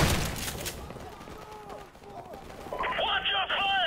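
Video game gunfire crackles in sharp bursts at the start, followed by shouted voices and raised, excited talk over the game action.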